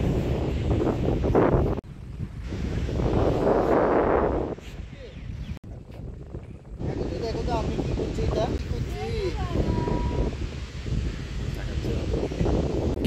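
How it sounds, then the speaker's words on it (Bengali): Wind and sea waves at Akilpur beach, a heavy, rushing roar of wind on the microphone with surf underneath, briefly dipping in the middle, while people can be heard talking. "সমুদ্রের অরিজিনাল সাউন্ডটা শুনতে পাচ্ছি"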